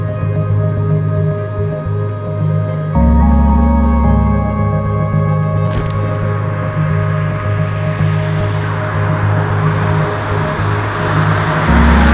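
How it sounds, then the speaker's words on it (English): A BMW E63 630i with a manual gearbox and N52 engine drives along, its engine hum and road noise steady and loud throughout, with an audible shift in engine tone about a quarter of the way in and no talking. "let's take an E63 630i with a manual gearbox out for a drive."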